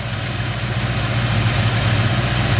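A 1954 Ford F100 pickup, timing well tuned, idles with a steady low rumble and a slight pulsing throb, close and even with no other sounds.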